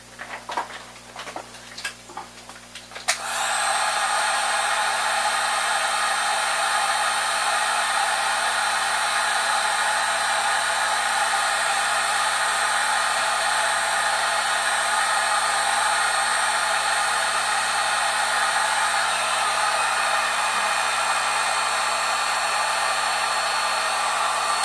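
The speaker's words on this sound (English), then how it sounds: "shrink the heat shrink." A heat gun shrinks heat shrink tubing during Eventorbot 1.2 3D printer assembly. After a few light clicks and handling noises, it switches on abruptly and blows with a loud, steady, hissing roar that continues without a break for over twenty seconds.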